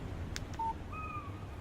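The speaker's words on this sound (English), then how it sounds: "Text message from Barry." Phone alert for an incoming text message in the Alan Wake video game, a couple of short electronic clicks followed by brief clean beeping tones, quiet and alone.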